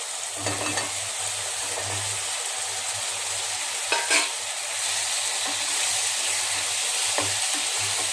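Halved and whole mushroom pieces sautéing in a pan for mushroom biryani, a steady sizzle with occasional stirring scrapes and clinks, close and moderately loud with no talking.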